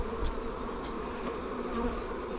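Honey bees buzzing around a hive feeder while a nucleus colony is moved into a new hive, a dense close hum of many insects with occasional louder passes, steady throughout.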